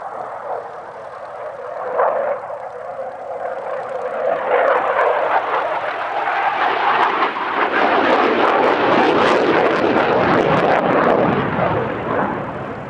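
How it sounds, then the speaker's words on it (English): A Swedish Air Force Historic Flight Saab Draken jet fighter on display at the Midlands Air Festival airshow, a loud roaring jet engine that swells and builds from a distant rumble to a sustained, harsh close roar. "This is the UK debut of this particular Draken"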